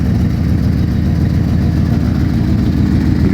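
Close, loud idle of a Ford Thunderbird, a one-owner car showing a little rust, its engine holding an even low rumble throughout with no voices.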